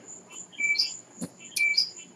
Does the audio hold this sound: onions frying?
no